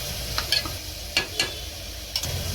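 Ridge gourd curry sizzles in a pan as chili powder is stirred in, a continuous low hiss under several sharp spoon scrapes and clinks, close and moderately loud.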